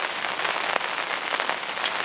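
Steady rain drums on a fishing bivvy at a carp syndicate lake, a dense, even patter of drops close overhead with occasional heavier splats and no voices.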